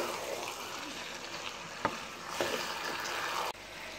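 Mixed vegetables with cabbage stirred and sizzling in a pan for a dhaba-style sabzi, a steady soft frying hiss with a few scraping stirs.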